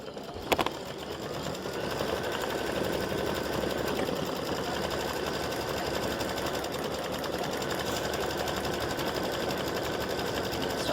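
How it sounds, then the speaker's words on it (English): Embroidery machine stitching an in-the-hoop mug rug panel, a steady, fast mechanical whirr that runs continuously and evenly, close and moderately loud, with no talking. "So I'll let it stitch, and then I'll turn this off and finish"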